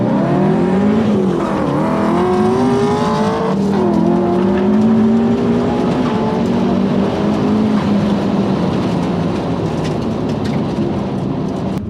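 Two drag race cars launch and accelerate hard side by side, engines roaring loud and near with rising, shifting pitch sweeping through a continuous run.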